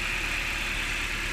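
A repaired Nissan Micra K12 1.2 16V petrol engine runs at a steady, even idle, heard close with a constant hum and no voices.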